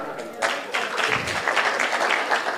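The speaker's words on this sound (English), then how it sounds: "Let's welcome him with our clap." A crowd applauds steadily for a couple of seconds, dense overlapping claps filling the room with a few voices mixed in.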